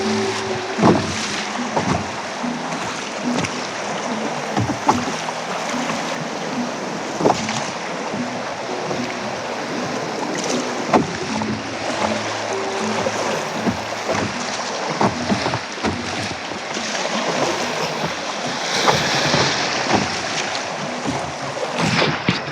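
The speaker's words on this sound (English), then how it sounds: "this is fast moving water" Fast-moving water on the Spanish River during a late-fall canoe trip, a loud continuous rush and churn with wind buffeting the microphone and occasional knocks from the canoe, with no talk.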